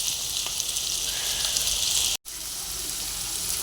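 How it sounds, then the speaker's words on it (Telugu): Onions and chana dal frying in a pan, a steady loud sizzle with a bright hiss that runs continuously, broken only by a very brief cut near the middle. "ఉల్లిపాయలు, పచ్చనిపప్పు కొంచెం ఫ్రై అవ్వాలి."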